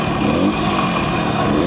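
A 1970s Yamaha motorcycle engine idling, a close, loud, steady mechanical rumble with a fine pulsing texture and no change in pace, alone without talk.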